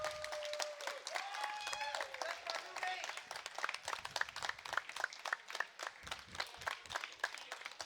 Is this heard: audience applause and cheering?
yes